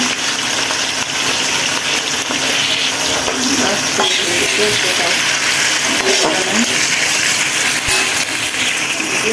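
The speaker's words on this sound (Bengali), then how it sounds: "নাড়াচাড়া করে নিচ্ছি ভালো করে, পেঁয়াজটাকে ভালো দিয়ে দিচ্ছি" Onions fry in a pan for a chicken dish while being stirred, a steady sizzle with intermittent scraping clatter running unbroken throughout, fairly loud and close.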